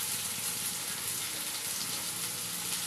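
Turmeric, cumin, coriander and Kashmiri chilli powder fry in hot oil in a pan for a fish curry, producing a constant close hissing sizzle with no voices.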